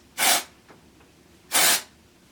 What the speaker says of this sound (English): So I'm just going to spray this just a little bit.